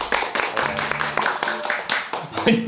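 A studio audience on a television variety show claps for a contestant, a close, lively run of many quick hand claps in uneven bursts.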